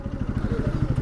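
A motorcycle engine idles close by during a Kathmandu ride, its firing pulses thudding in a quick, regular rhythm for about a second.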